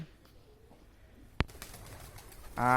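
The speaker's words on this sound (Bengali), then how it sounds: "দেখুন আমার বাসার কবুতর আসছে সব খাওয়ার জন্য" Giribaz pigeons at a home loft coo while coming to feed on paddy. A single sharp click is followed by a loud, close, throaty coo at the end.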